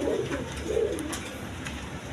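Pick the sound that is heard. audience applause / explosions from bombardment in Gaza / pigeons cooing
pigeons cooing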